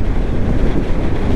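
Strong wind buffets a road in the Andes on Argentina's Ruta Nacional 7, a loud, steady roar rumbling in the low end without letup and with no voices heard.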